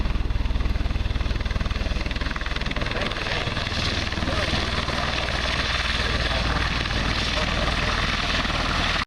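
Boeing V-22 Osprey tiltrotor of the United States Marine Corps at an airshow, a loud, steady rotor and engine roar filling the whole stretch, with a crowd-announcer voice mixed faintly underneath.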